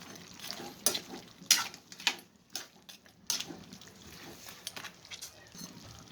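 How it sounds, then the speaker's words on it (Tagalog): Native chicken stewed in coconut milk is stirred in a frying pan. A spoon scrapes and knocks at an irregular rhythm over a soft, steady sizzle, heard up close. "At halu-haluin lang natin to guys."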